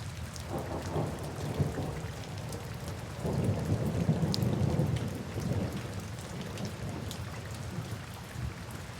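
Steady heavy rain pours throughout, with low rolling thunder rumbling in the background and swelling louder midway before easing, no voices present.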